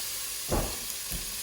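Chopped onion hits a hot pan for leek and potato soup and begins sweating, a soft sizzle and stirring scrape rising in two short bursts over a steady background hiss, close by, with no talk.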